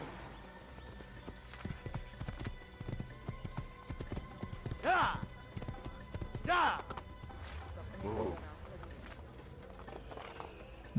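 Horse hooves gallop in the video game Assassin's Creed. The quiet clip-clop runs under a player talking, with a couple of louder thuds.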